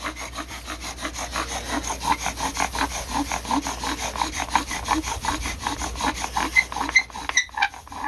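Steady, fast back-and-forth rasping of a bow drill spinning against eastern red cedar wood, continuous close friction squeaks with a brief break near the end.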